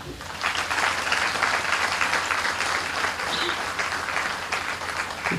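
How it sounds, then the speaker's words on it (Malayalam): A large audience at a conference inauguration applauding in a thick, sustained wash of clapping that stays loud and even throughout, with faint crowd murmur underneath. "എല്ലാവരും ഒന്ന് കൈയടിച്ച്"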